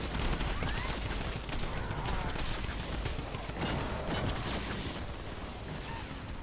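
The Typewriter gun in Fortnite Save the World fires a dense, continuous stream of rapid shots that blur into a constant crackling roar, loud and steady throughout.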